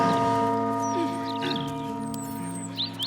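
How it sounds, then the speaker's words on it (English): A bell in the Baldur's Gate 3 video game rings with a sustained, resonant metallic tone that slowly decays, joined by faint chirps and small game sounds. "You can ring the bell."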